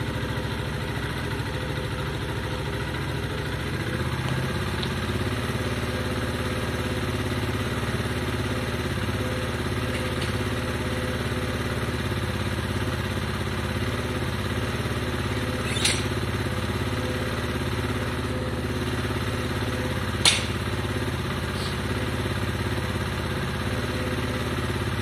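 A motorcycle engine idles steadily on half choke while warming up, a continuous low mechanical drone with faint clatter and two brief sharp ticks partway through, no talking.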